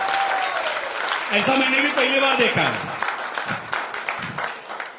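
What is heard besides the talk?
audience applause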